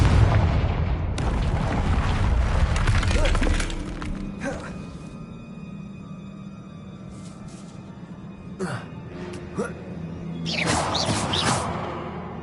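Confringo blasting spell in Hogwarts Legacy: a loud booming explosion roars for several seconds, then decays into a quiet ambience punctuated by scattered later bursts and thuds.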